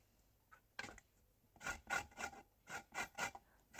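Lemon zest being grated for a lemon cake, a dry rasping scrape repeated in about eight short strokes, close and fairly quiet, with no voices.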